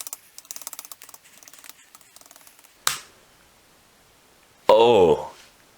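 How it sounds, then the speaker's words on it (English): Keys on a compact Asus EeePC touchscreen laptop keyboard, partly broken, clatter in quick close taps for about three seconds, followed by two louder separate bursts of noise. "I'm just gonna try all of the keys that work and the keys that don't work. So that means pressing all the buttons."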